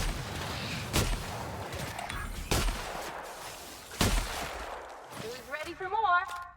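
Shotgun blasts in The Outer Worlds during combat with a mantis: three sharp, loud booms about 1.5 seconds apart over busy game noise. Creature cries follow near the end.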